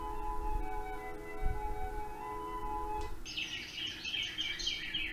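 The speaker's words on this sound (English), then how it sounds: "We have nice little Tweety birds." Birdsong wake-up sound from a sunrise alarm clock, faint chirps and tweets that follow a soft tone and then brighten into a busier, higher twittering burst in the second half.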